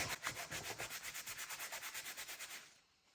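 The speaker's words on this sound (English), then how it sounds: "Let's put it to the test because obviously we want to know if this is going to rub off on the fabric." A decorated paper bag, for a junk journal, rubbed back and forth against fabric in fast, even strokes, a close, soft scratchy swishing pulse about seven times a second that stops abruptly near the end.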